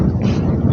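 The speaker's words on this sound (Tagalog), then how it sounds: "Grabe lakas ng hangin mga idol." Strong wind at a fishing spot by the water in Angono, Rizal, buffets the microphone in a loud, continuous low roar.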